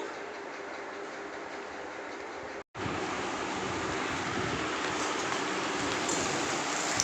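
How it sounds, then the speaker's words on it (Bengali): Okra frying in a pan on a home kitchen stove gives a steady, broad sizzle that runs almost unbroken, with one brief dropout near the start, and no voices over it. "আর এদিকে ঢ্যাঁড়সগুলো ভেজে নিচ্ছি একটু"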